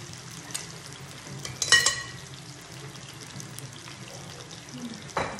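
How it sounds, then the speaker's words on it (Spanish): Chicken breast frying in a pan on a home stove, a soft steady sizzle with a brief louder crackle and clatter partway through and a short knock near the end, no talking. "Vamos a freír nuestra pechuga,"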